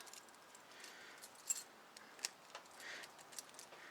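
Metal keys jangle softly while someone picks a key to rekey a padlock, a quiet scatter of small clinks and taps spread across a few seconds.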